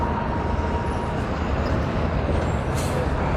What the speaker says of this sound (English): I didn't know this bus was turning this way.